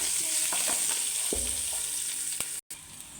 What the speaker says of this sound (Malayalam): വെളുത്തുള്ളി ഇട്ട് കൊടുക്കാം ഇനി ഇത് നല്ല രീതിക്ക് വഴറ്റി കൊടുക്കാം